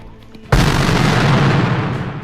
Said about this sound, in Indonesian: Pihak Jepang sudah mulai melepaskan tembakan